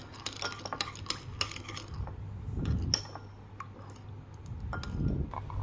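Spoon clinking and scraping against a bowl as a yeast mixture is stirred together with olive oil for steamed mantou bun dough, light irregular taps building into two louder swirls of stirring, close and alone.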